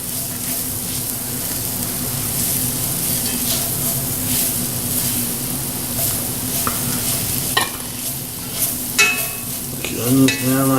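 Curry ingredients sizzling and frying in a pan for curry coconut chicken, a loud, steady hiss close up, with stirring and clinks of a wooden spoon toward the end.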